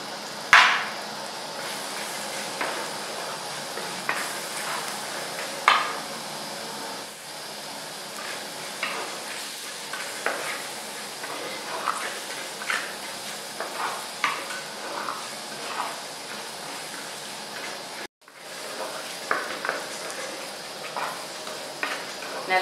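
Oyster mushroom masala sizzles in a hot pan while a spoon stirs and scrapes it in steady, close clicks, with a brief pause near the end.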